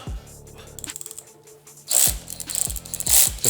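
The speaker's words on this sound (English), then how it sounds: "Let's get that bolt loosened up." Rapid ratcheting clicks from a socket wrench loosening a bolt on the front end of a Harley-Davidson Softail motorcycle, starting as a steady fine clatter, pausing, then returning as several louder, close bursts of metallic clicking.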